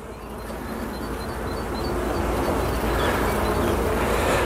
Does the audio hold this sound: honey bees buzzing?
yes